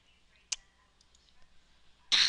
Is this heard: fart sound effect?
no